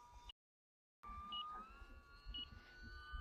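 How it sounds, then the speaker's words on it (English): An RC transmitter flight timer for an E-flite UMX Timber X electric plane gives short electronic beeps outdoors on a windy night, with a sustained tone and wind rumble, brief and fairly faint. "Okay, timer's running out."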